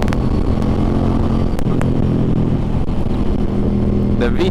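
A Suzuki M50 cruiser motorcycle pulls at full throttle, a loud, sustained engine roar with wind noise as the rider accelerates, while a voice talks over it.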